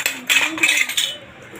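Kitchen plates and bowls handled close by, giving a few bright ceramic and metal clinks in quick succession with a short ringing decay, while a voice speaks faintly in the background.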